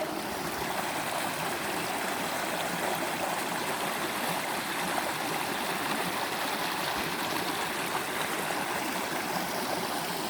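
A stream at Goldwater Lake rushes in a steady, close, broadband wash of flowing water without pauses.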